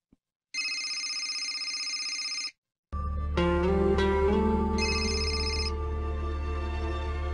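A telephone rings in two bursts of a bright electronic tone separated by a short pause, fairly quiet and with no talking.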